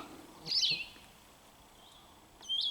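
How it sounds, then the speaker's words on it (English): Two clear, high bird calls ring out a couple of seconds apart against a quiet, airy morning background in the Allegheny National Forest, with a light breeze in the trees. "All you have is the sound of the breeze in the trees and the birds singing their morning song"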